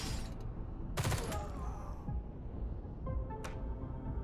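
Gunfire in the tactical game Xenonauts 2, a few sharp bursts of shots at about one second and again near three and a half seconds over steady game ambience, fairly loud and close.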